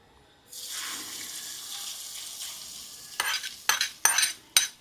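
A tempering of asafoetida hits hot oil in a pan for tamarind-jaggery gojju avalakki, setting off a sudden hissing sizzle. The hiss fades gradually, then several sharp bursts of crackling follow as the mixture is stirred.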